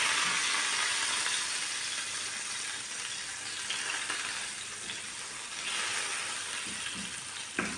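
Ghee melts in hot olive oil in a pan, giving a steady, dense sizzle and crackle that fills the whole stretch without a pause.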